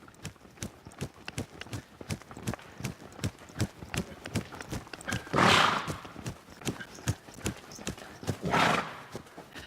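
Hooves of a horse clip-clop in a brisk, regular trot rhythm, clear and close, with two louder breathy snorts or whinnies breaking in.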